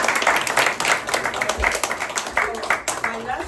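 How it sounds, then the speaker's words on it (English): Audience clapping at a film festival interview with a film team, a short burst of scattered claps mixed with voices speaking over it. "let's clap to this"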